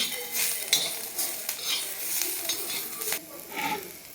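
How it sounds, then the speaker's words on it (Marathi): Ginger and garlic roasting with onion in a pan, a steady sizzle broken by repeated scraping stirs and light utensil knocks, close and moderately loud. "या वेळेला आपण आता आलं आणि लसूण टाकणार आहे याच्यामध्ये ते पण आपण छान भाजून घ्यायचं"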